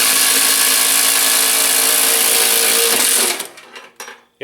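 A 1 3/8 inch Milwaukee Shockwave thin-wall hole saw driven by an impact driver, cutting with a loud, continuous buzzing whir for about three seconds before spinning down and stopping, heard up close.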